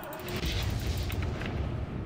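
Loud, rumbling booms from explosions in a video game fill the clip, a dense continuous roar with bursts layered over it and no clear gaps.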